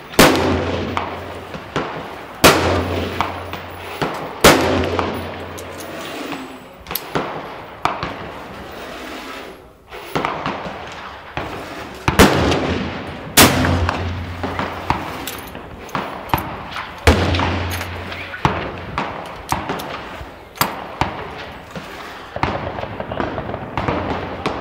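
Loud black powder Martini rifle shots ring out at a shooting range, about a dozen sharp booms spaced a few seconds apart, each followed by a short echoing decay.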